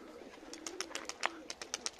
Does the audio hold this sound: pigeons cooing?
yes